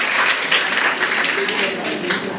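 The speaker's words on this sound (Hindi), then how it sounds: "उनकी हौसला अफजाई के लिए जोरदार ताली बजाइए।" Crowd applause at a skills certificate convocation ceremony of a vocational training institute in Samastipur, a steady, fairly loud patter of many hands with faint voices underneath, lasting a couple of seconds.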